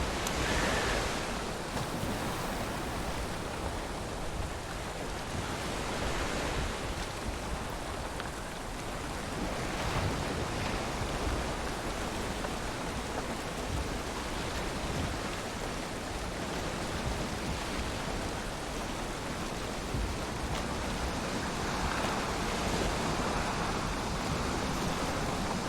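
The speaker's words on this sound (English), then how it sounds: "The waves are always rough." Continuous roar of rough sea waves in the Viking survival game Valheim, a broad wind-blown surf wash that swells and ebbs slowly over its length, with no voices.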